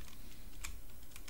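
Faint keyboard typing on a computer while entering a file name at a terminal, a few soft key clicks with one brief louder tap near the middle, no talking.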